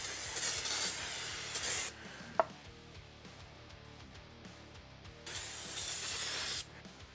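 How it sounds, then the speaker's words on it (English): Aerosol brake cleaner hisses onto a Jeep Gladiator brake rotor in two loud, close bursts of about two seconds each, separated by a quiet pause with a small clink. "So let's go grab a can of brake clean and get that rotor clean."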